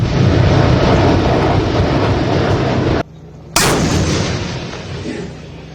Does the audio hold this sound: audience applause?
no